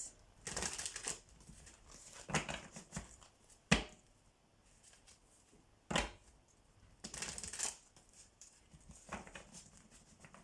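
Tarot cards shuffled and drawn in quiet bursts of riffling and rustling, with a couple of sharp snaps as cards are flipped or laid down, and quiet gaps between.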